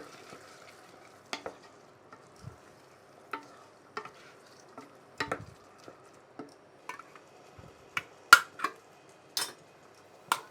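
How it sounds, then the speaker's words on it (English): A spoon stirs vegetables, bay leaves and soup mix in a pot of minestrone, giving soft scattered scrapes and knocks against the pot at an irregular pace over a quiet background. "And again, stir it all up."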